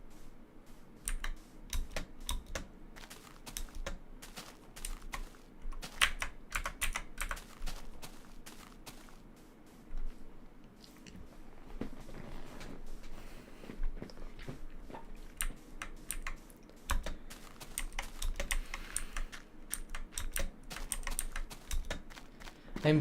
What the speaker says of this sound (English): I'm speaking the keyboard language, yeah. My keyboard is loud.